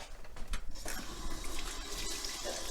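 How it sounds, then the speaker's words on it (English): Tap water running into a sink while hands are rinsed, a close, splashing hiss with uneven bursts as the flow is broken, no talking. "just gonna rinse my hands off."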